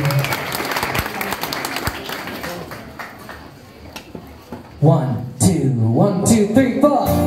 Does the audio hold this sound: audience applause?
yes